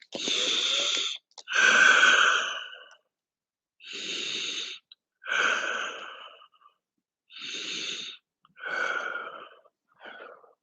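Deep, audible breaths during a vinyasa yoga pose, heard as six or seven close, airy inhales and exhales separated by short silences, with no talk.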